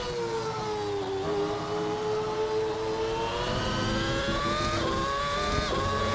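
In a racing video game, a McLaren MP4/22 Formula One car screams at high pitch as its engine rises and falls through the gears, loud and close, with no talking over it.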